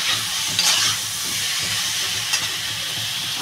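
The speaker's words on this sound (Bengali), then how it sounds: "আমি এবার পরিমাণ মতন জল দিয়ে দেবো।" Water hits a hot pan of frying potatoes and eggplant for a Bengali curry, giving a loud hissing sizzle with two sharp bursts of spitting steam over steady frying noise. No one speaks.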